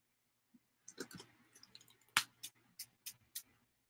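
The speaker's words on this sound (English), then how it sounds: "I love this sprayer. It's Timmy's Distress sprayer, and it's very economical, and it's got a great sprayer in it." A small Distress spray bottle spritzes water in a series of five or six quick, crisp bursts, each preceded by faint clicks of the trigger, close up in a quiet room.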